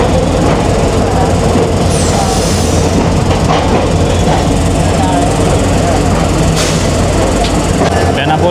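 A Rupashi Bangla Express train stands at Benapole-bound station as locomotive 6621 is coupled on; a steady rumble of rail machinery and engine drone fills the scene, with faint clanks and station bustle throughout.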